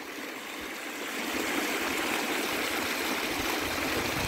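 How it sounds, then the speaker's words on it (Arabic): A natural stream flows steadily outdoors, a bright, continuous rushing and trickling that swells slightly after the first second and then holds even and close. "الصوت ديال الماء اجمل صوت صوت طبيعي"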